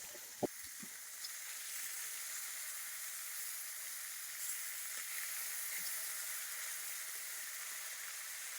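Fish pieces rubbed with turmeric and salt fry in hot mustard oil in a wok, giving a steady close sizzle throughout, with a few faint clinks near the start.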